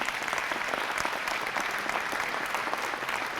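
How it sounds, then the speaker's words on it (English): An audience at a drug and violence awareness expo applauds steadily, dense overlapping clapping from a crowd with no talking over it. "So please give her a round of applause, too."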